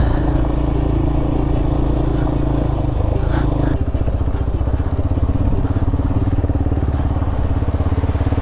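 A motorcycle ridden along a rough, broken mountain road in Ladakh, its engine droning steadily and close with a low rumble and rattling over the uneven surface throughout.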